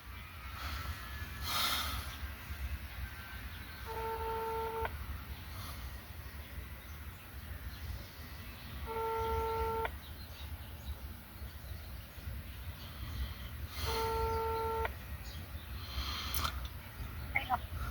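Telephone ringback tone repeating three times at steady intervals, each burst a clean electronic double tone lasting about a second, over low background hiss with no talk.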